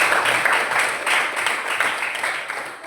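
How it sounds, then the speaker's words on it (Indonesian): Classroom applause for a student named Andini during a Catholic religious education lesson, a steady burst of many hands clapping close by for about three seconds with no talking over it. "beri aplaus untuk Andini"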